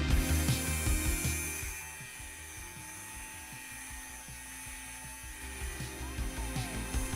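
An electric fabric shaver buzzes steadily over pilled clothing, a thin whirring motor tone with a faint rough scraping texture as the blades catch fabric balls, louder at the start and end.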